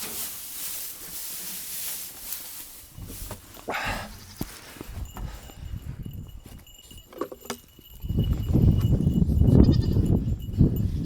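Goats bleat in a barn amid rustling and jangling, then loud close-up chewing and crunching of hay takes over.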